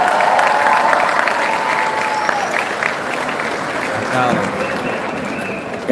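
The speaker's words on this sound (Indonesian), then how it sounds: "Tepuk tangan untuk semua yang hadir di sini." Sustained applause from an audience at an Indonesian national address, a dense steady wash of clapping lasting throughout, with a voice heard over it.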